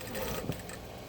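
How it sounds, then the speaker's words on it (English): A sewing machine top stitches a canvas tote's lining with a steady close mechanical whir, one brief louder bump partway through and no talk. "And we're just top stitching"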